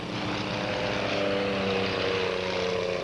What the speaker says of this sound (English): It's the airplanes outside, both on the ground and in the air.